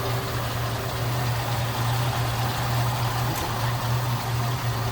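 A 1979 Ford Thunderbird two-door hardtop with a 302 V8 idling steadily, a loud, even low rumble with no gaps throughout.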